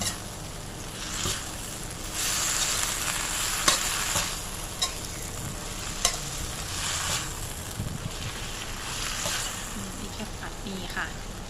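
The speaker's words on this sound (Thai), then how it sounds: "นี่ก็ผัดให้เข้ากันค่ะ" A pan of kaphrao, Thai holy basil stir-fry, is stirred and tossed with a continuous sizzle and scraping, steady and close, with a voice speaking over the cooking.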